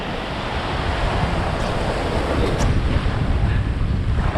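Surf breaks steadily at Malgrat de Mar, a continuous, loud wash of waves with heavy wind buffeting the microphone throughout.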